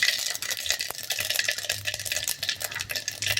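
Mustard and fenugreek seeds fry in hot oil, giving a close, continuous crackle and sizzle punctuated by sharp pops and the occasional clink of a stirring spoon against the pan.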